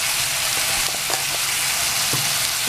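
Bottle gourd peel stir-fry seasoned with salt, turmeric and sugar sizzles loudly and steadily in a pan, with a few soft scraping stirs of a spatula close by and no voices.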